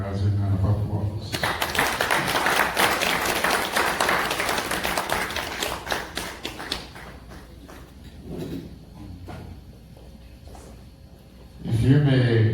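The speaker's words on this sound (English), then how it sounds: "I would like everybody to give a rousing round of applause" A conference audience gives a short burst of applause that fades after a few seconds, followed by quieter room sounds, scattered thumps and a voice starting up at the end.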